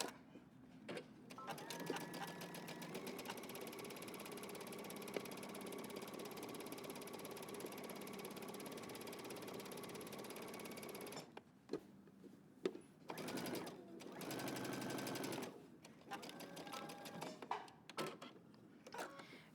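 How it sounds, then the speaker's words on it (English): A sewing machine stitches around the pocket of a shirtdress, running in a long steady mechanical whir for about ten seconds, then in shorter stop-start bursts with clicks and pauses. "Now we're going to sew around our pocket."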